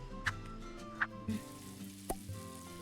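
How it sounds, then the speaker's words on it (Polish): Meat frying in a pan, a soft steady sizzle with a few sharp ticks and clinks of utensils, quiet and close, with no voices. "Patrz, tak będziemy smażyć mięso."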